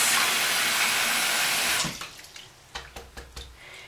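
Running tap water pours steadily over a Denman hairbrush being rinsed at a sink, then the flow cuts off and a few drips and splashes follow.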